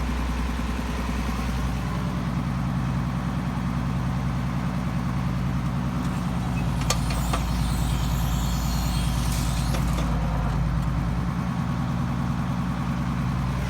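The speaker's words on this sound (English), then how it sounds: "That's the hay rake." A hay rake works a dry hay field, its steady, loud mechanical drone running throughout, with brief metallic rattles and clatters breaking through in the middle.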